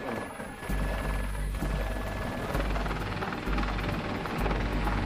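A helicopter's heavy rotor drone fills the whole stretch, loud and steady with a deep throbbing low end and broad rushing wash above.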